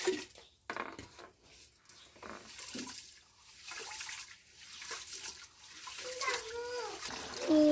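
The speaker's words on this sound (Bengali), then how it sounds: "ভাতের চাল ধুয়ে নেওয়া হবে ভালোভাবে বেছে নেওয়া হচ্ছে" Water sloshes and splashes as rice grains are swished and rinsed by hand, with scattered clatter and faint voices in the background.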